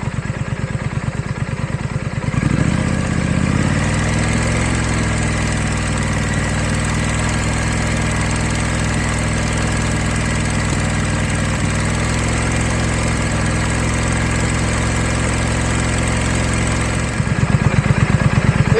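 A Triumph Scrambler motorcycle on its standard exhaust ticks over at idle, a steady, even low throb that carries on unbroken for the whole stretch with a slight shift in tone early on.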